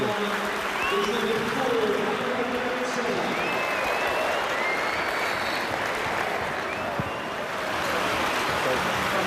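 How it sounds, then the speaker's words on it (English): Broad crowd applause at a Watford football club gathering, a continuous dense roar of clapping with faint whistles and voices mixed in, holding steady throughout. "Mike can give you a clap."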